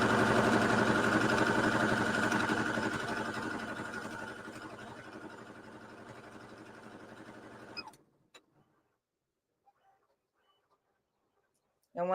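Sewing machine stitching rapidly in a close, steady whir that slowly fades and stops abruptly, leaving near silence with a few faint clicks.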